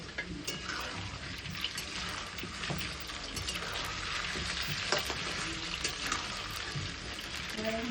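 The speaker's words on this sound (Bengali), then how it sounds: "প্রথমে উনানে কড়াইটা বসিয়ে তাতে সর্ষের তেল দিয়ে আলুগুলো দিয়ে দিতে হবে।" Potatoes frying in mustard oil in a wok over a wood-fired clay stove, a steady dense crackling sizzle with scattered sharper pops, close and continuous throughout.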